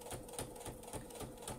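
A sewing machine stitches in quick, even pulses as it strains through a thick layer of fabric and doubled wadding at the edge of a handmade kitchen sponge.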